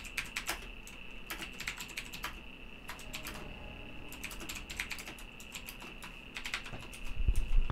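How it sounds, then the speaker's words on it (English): Typing on a computer keyboard in bursts of quick, crisp key clicks with short pauses between runs, close and moderately quiet over a faint steady hum, with no voices. "as you can see, typing on screen"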